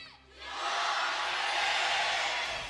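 Loud crowd cheering and roaring at the League of Legends Worlds 2023 Swiss Stage esports event, swelling after a brief dip and holding steady as a broad, sustained roar.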